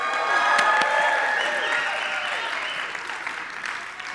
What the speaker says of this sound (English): can you guys give me a round of applause